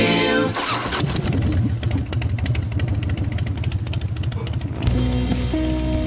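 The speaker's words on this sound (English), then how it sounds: "you gotta love the sound of that Harley Davidson motorcycle right there" A Harley-Davidson motorcycle engine fires up and rumbles with a deep, throbbing idle and rising revs, loud and close by.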